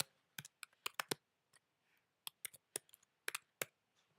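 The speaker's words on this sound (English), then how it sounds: "So I can type in the text here." Someone types text on a computer keyboard nearby, producing quiet clusters of sharp key clicks in irregular bursts separated by brief pauses.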